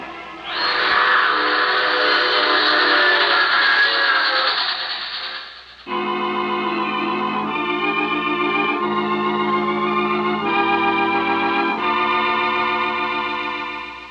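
A loud, sustained whistle blows for several seconds, then gives way to a steady multi-tone train horn sounding in long blasts, with no talking.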